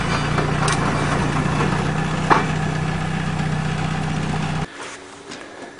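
A Peugeot 106 with a four-cylinder engine idles close by with a steady low hum and a couple of small clicks. The engine then cuts off abruptly, leaving quiet room sound.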